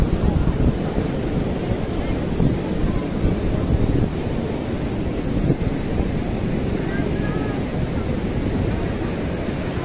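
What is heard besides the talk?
ocean waves on the beach at Puri, Odisha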